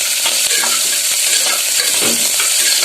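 Onions, green chillies and curry leaves fry in ghee, giving a loud, close, steady sizzle broken by scraping stirs of a spoon in the pan, with no speech.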